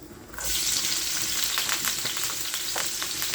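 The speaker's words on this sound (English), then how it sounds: "I can go ahead and put my seasoning into my oil" Seasoning hits hot oil and bursts into a loud, steady sizzle that continues close by, with faint stirring scrapes through it.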